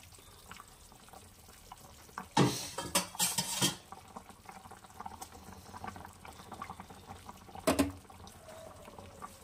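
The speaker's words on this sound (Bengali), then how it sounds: "এবারে আমি দিয়ে দেবো ভেজে রাখা মাছটা।" Pieces of fried aar fish go into a simmering curry with potatoes, making a few sharp splashing clatters of pot and utensil over a low steady bubbling, with a brief clink later on.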